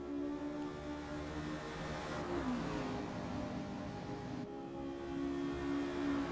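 A spec Honda Civic EP3 race car engine drones loudly at high revs under wheel-to-wheel racing, its steady tone dipping briefly at gear changes near red line, heard from inside the car and continuous throughout.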